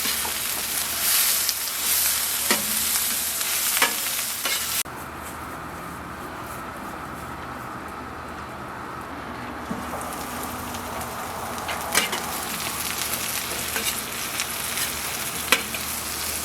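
Onions and green peppers fry in a pan for cheesesteak filling, giving a steady close sizzle with occasional stirring scrapes and clicks; the sizzle drops briefly in the middle before building back up.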